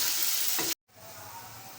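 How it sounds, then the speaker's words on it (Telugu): Masala spices fry in a pan for a mutton drumstick curry with a strong steady sizzle that cuts off abruptly, then resumes as a softer, quieter hiss. "పచ్చివాసన పోయే వరకు మసాలా వేయించుకోవాలండి."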